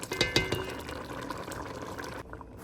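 A little water poured into a pot of mung beans cooking on the stove makes a continuous splashing, bubbling liquid sound that runs close and steady before cutting off near the end.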